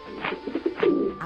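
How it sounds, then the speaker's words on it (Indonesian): A carrier pigeon cooing close by, with a short run of soft, low throaty coos that swell into a longer warble. "Merpati pos punya Yakui."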